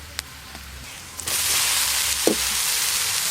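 Ginger, garlic and green chili fry in a pan with a steady, close sizzle that swells louder partway through, broken by a few faint clinks of stirring.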